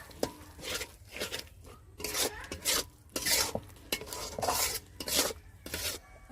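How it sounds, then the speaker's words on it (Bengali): A spoon stirs and scrapes a thick coriander-leaf pickle in a pan, giving repeated close, gritty strokes in a steady rhythm with faint sizzling underneath. "এইভাবে আচারটা আমি 5 মিনিট কষিয়ে নেব"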